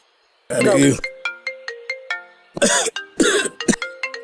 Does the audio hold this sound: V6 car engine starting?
no